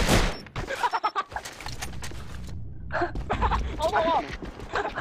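In the online shooter AVA, bursts of rapid gunfire crackle loudly at the start and return in shorter volleys, with excited voices talking over the shots.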